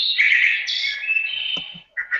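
A phone ringtone imitating bird chirps plays a bright, continuous warbling call, close and clear, then breaks off and resumes briefly with short chirps.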